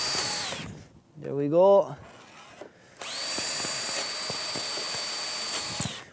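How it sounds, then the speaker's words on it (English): A power drill whines steadily as it drives into a wooden batten, pausing briefly while someone speaks, then running again in a long, close burst. "we'll be drilling them into the batten"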